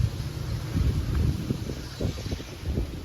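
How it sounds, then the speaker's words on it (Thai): Strong wind buffets the microphone outdoors in gusty low rumbles that swell and ease, with no talking. "ลมแรงมากเลยนะครับ"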